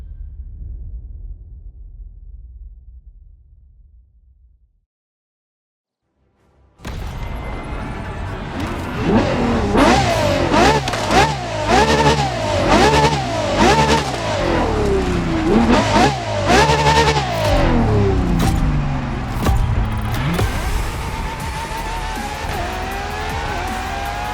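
A Ferrari LaFerrari hybrid supercar in The Crew Motorfest roars after a brief near-silence, its engine revving hard and climbing through repeated gear changes with sweeping pitch rises and falls, loud and close, with occasional tire squeal.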